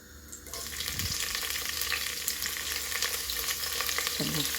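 Chopped onions sizzle and fry in hot oil in a pan as a sauce for spinach is started, giving a steady close crackle with occasional stirring scrapes.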